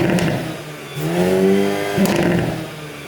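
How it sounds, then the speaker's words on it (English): A 2022 Hyundai Kona N hot hatch SUV revving through its large rear exhausts, two rising throttle blips with a rough burbling tone, close and fairly loud, no talk. "massive rear exhausts that sound like this"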